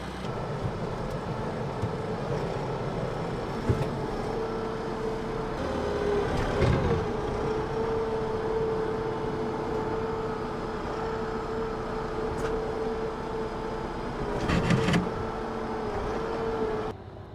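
A tractor engine drones steadily while its bucket works long pine boards free from a frozen stack at an off-grid homestead below zero, with a couple of dull knocks and clanks over the constant hum.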